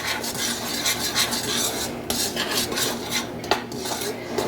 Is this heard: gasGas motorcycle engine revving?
no